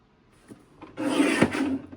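A paper trimmer blade slides through red cardstock in one close, smooth swipe of about a second, preceded by a couple of faint clicks as the sheet is positioned.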